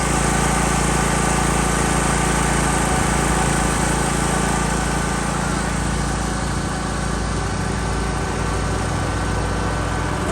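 A lawn mower runs steadily for the whole stretch while someone cuts a front lawn. The engine drones loud and continuous with a constant idle-like hum and no talk over it.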